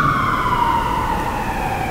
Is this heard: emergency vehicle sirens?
yes